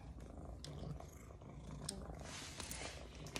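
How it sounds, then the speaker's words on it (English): A contented house cat purring quietly and steadily, close by but faint, with soft background noise. "She is purring"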